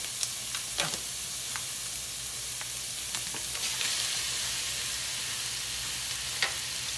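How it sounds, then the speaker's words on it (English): Ground beef sizzles in a pot for homemade chili, a steady, close hiss of frying with occasional sharp pops and crackles that runs unbroken the whole time, with no voice. "Now to this, I'm gonna add my beef."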